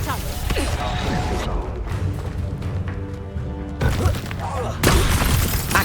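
Reducto spell blast in Hogwarts Legacy: loud booming, shattering impacts with crashing debris, a burst early on and another heavy blast near the end, amid dense game effects and a voice.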